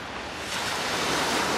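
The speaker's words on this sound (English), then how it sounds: "look at the sea." Sea surf washes steadily against the rocky beach at Newlyn Green in Cornwall, a broad rushing hiss that swells slightly louder, with some wind noise and no voices.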